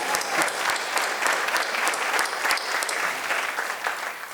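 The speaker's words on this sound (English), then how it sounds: "Edwin, you're not here, but we're clapping for you right now" An audience at a chamber of commerce annual meeting and community award ceremony claps steadily, a dense even wash of many hands applauding close by with no voices over it.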